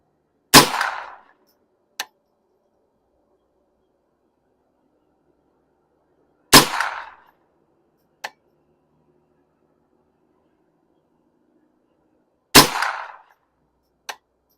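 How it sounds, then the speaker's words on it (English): Three loud rifle shots from a rifle fitted with a 3-9x50 scope, spaced about six seconds apart, each a sharp crack followed by a short faint distant impact or echo tick, with quiet in between. "Alright, took a few shots."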